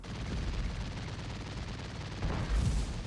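Dense, continuous rumbling tank gunfire in a video game with rapid booming shots, a louder heavy blast near the end, steady and close throughout.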